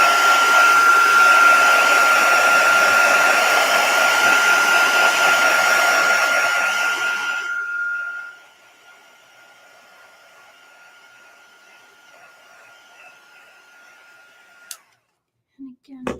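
A hair dryer drying paint on a stencil blows loudly and steadily with a whining tone, then drops to a quieter low setting before clicking off, followed by a few faint knocks.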